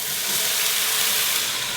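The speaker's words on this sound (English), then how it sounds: "I'm actually just gonna use whatever's kind of left over in the pan and throw in the mushrooms real quick" Leftover oil in a hot pan sizzles steadily as mushrooms go in, a loud, continuous hiss with no pauses and no voices.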